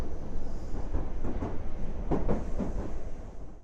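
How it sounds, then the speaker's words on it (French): A Paris metro train runs steadily in a loud, continuous rumble, with rhythmic rail clatter and rattling under the car throughout. "Le métro. Un endroit plein de microbes, bruyant, que je dois emprunter tous les jours."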